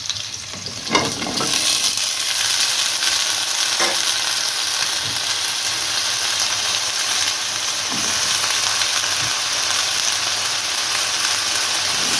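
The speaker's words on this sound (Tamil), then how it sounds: "கொஞ்சம் பொன்னிறமாக வணங்கட்டும் வெங்காயம் பாதி வணங்கிடுச்சு" Onions fry in a pan for Nagercoil-style aviyal, a loud continuous sizzle with occasional scrapes of a stirring spoon, close and steady throughout.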